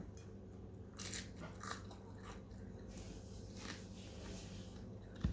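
Someone bites and chews crispy fried galunggong fish, giving a few quiet, close crunches spread over a few seconds against a faint room hum.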